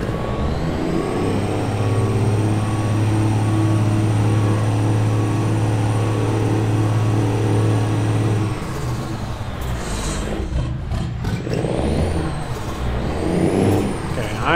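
Heavy truck engine drones steadily in a trucking video game, a low sustained hum that shifts and fades into rougher rumbling and hissing toward the end, with no voices.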